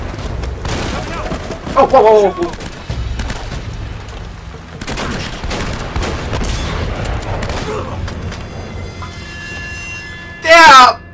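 Shotgun blasts ring out in Uncharted: Drake's Fortune, a few heavy booming shots under a player's excited talk and exclamations, with a final loud burst near the end.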